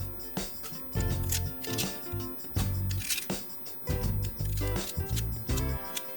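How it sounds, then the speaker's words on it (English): Skins are peeled from clean raw potatoes with a quick run of close, dry scraping strokes in uneven bursts. No one speaks. "So we start off with some clean potatoes and start peeling the skins off."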